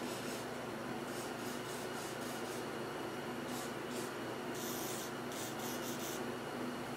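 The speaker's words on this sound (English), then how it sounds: "I'm going to give everything a good lube job" Aerosol lubricant sprayed onto the parts of a snow plow under repair: a steady hiss runs through the whole stretch, with a few brighter bursts of spray near the end and no voices over it.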